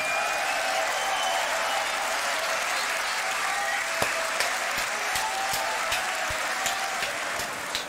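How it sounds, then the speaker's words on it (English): Crowd applause after a beatbox tag team battle at a world league event, a dense steady wash of many hands clapping from a large audience, with a few sharper claps and cheers standing out. "One more round of applause for the final battle in the tag team"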